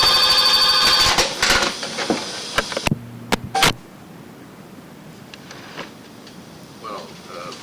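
An old telephone's bell rings loudly at first, then gives way to a few clicks and clatter, as of the handset being picked up, before a quiet room hum.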